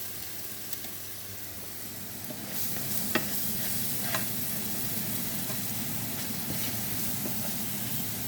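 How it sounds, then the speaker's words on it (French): Onions caramelize in a pan for carbonara, a steady close frying hiss that grows louder partway through, with occasional stirring scrapes and no talking. "on se fait bien caraméliser les oignons"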